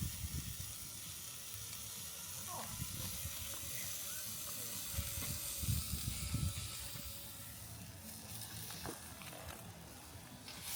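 Steak and sausages sizzling over a campfire on a chilly winter evening make a faint, steady hiss and crackle outdoors, with faint background noise and a little indistinct talk.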